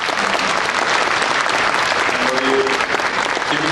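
Sustained audience applause at a book talk event, dense and loud clapping from a crowd filling the whole stretch, with a faint voice underneath.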